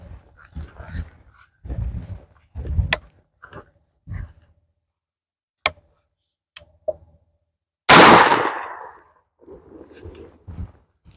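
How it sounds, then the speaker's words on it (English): A Stoeger M3000 semi-automatic shotgun fires one sport target load at a t-shirt: a single sharp, loud blast with a brief ringing tail, following scattered speech. "I've got that sport target load, and we'll take a shot and see how it looks."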